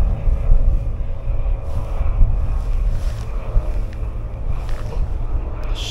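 A paraglider's motor drones steadily overhead above the River Hull, a low, continuous hum heard from a kayak on the water, mixed with gusty wind buffeting the microphone.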